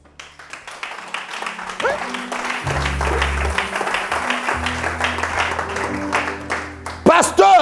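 A church congregation applauds during a French-language Pentecost sermon, with steady sustained clapping that swells and continues under a preacher's voice and organ-like tones.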